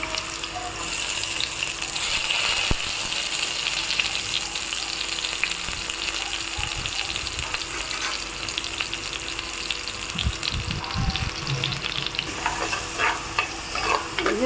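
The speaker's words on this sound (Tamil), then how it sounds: "நல்லா வதங்கணுங்க வெங்காயம்" Ground paste of big and small onions sautés in a pan with a dense, constant sizzle under frequent scraping and stirring strokes, near and loud, with no talk.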